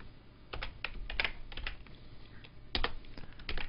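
Typing on a computer keyboard, close and fairly quiet, irregular clusters of key clicks with brief pauses between bursts and no talking.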